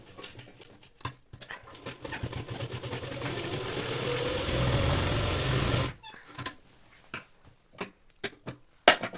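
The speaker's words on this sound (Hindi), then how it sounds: "बैक की पट्टी इस तरफ फोल्ड करके आधा इंच पे सिलाई लगा देनी है।" A sewing machine runs a half-inch seam on a kurta's folded back strip, whirring steadily and close for about five seconds before stopping, followed by scattered sharp clicks and handling taps.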